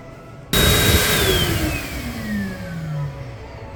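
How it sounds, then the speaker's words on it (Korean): A hand dryer in a shopping mall restroom in Colombo, Sri Lanka, kicks on abruptly with a loud, close rush of blowing air and a whining motor tone that slowly drops in pitch. "손 씻는 곳 바로 앞에 손 말리는 것도 있어서 이것은 참 좋습니다."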